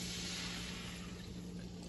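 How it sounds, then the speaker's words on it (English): Water poured into a cooking pot on a stove, a faint steady hiss and trickle lasting a couple of seconds with no talk. "I pour a little water in the pot."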